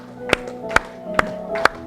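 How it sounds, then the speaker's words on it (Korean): A church congregation at a Sunday family worship service claps in unison, four sharp, evenly spaced claps over soft music in the background. "우리 뜨겁게 박수 치면서 서로 축복하겠습니다"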